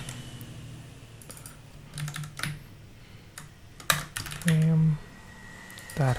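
Code is typed on a computer keyboard in irregular bursts of close, crisp key clicks, with someone speaking briefly between them.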